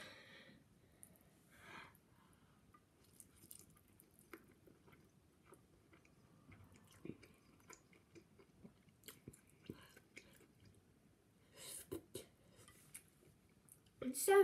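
Quiet, close chewing of spicy noodles: soft wet bites and squishy munching come in irregular bursts with faint clinks of utensils between them.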